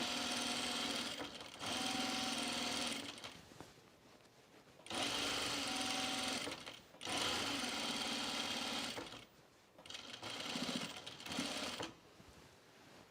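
A sewing machine stitches a pullover camp dress in several long runs, each a few seconds long, with brief pauses between them. The machine hums close and steady and no one speaks.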